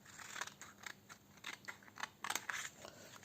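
Scissors snip through a notched-collar blazer paper pattern at the shoulder, a quiet series of close, crisp cuts in an uneven rhythm.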